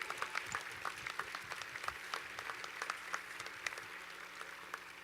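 Graduates at a Georgia Southern University spring commencement applaud the faculty with sustained, even clapping from a large, distant crowd in a big hall, quiet and steady throughout.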